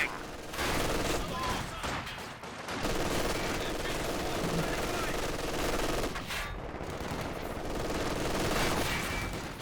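Sustained automatic MG42 machine gun bursts in the World War II strategy game Company of Heroes 2, loud and dense across most of the span, with a brief lull near the start and another mid-way, under talk throughout.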